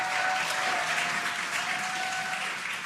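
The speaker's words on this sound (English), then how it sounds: "You can hear the crowd here." Crowd applauding and cheering as a Dragon spacecraft's drogue parachutes deploy during descent, a steady, dense wash of clapping that holds loud throughout.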